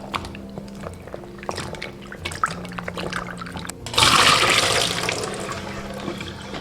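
Dried seafood, including dried shiitake, scallops, shrimp and cuttlefish strips, is rinsed in clear water, with gentle sloshing and clinks, then a louder rush of water near the end.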